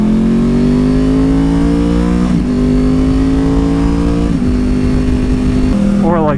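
Yamaha R1 1000cc liter-bike engine revving hard and close, a loud steady roar rising in pitch through several gear shifts, with brief dips between pulls and a sharp climbing rev at the end.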